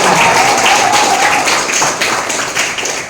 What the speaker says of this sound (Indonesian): saya mohon diberikan tepuk tangan yang semeriah mungkin